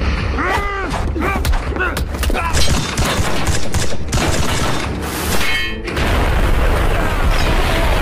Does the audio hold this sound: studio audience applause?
no